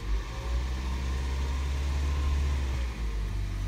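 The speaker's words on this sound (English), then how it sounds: "This turns the engine on." A Toyota Prius engine runs steadily with the gas pedal held down during coolant bleeding, giving a continuous low, loud hum that stays level throughout with no talk.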